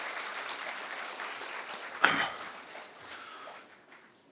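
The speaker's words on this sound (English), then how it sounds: "So a big round of applause" An audience applauds at a school function, a steady patter of clapping hands at moderate distance that swells briefly and then thins out.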